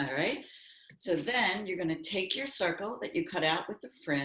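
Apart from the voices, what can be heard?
No everyday noise stands out behind the speech.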